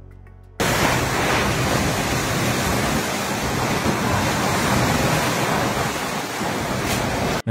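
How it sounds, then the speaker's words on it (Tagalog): After a brief quieter moment, a roaring wash of Typhoon Opong's wind and pouring rain in Calbayog, Samar, Philippines cuts in and continues loud and unbroken, like a storm buffeting the microphone. "Malakas na hangin at pag-ulan ang naranasan sa Calbayog"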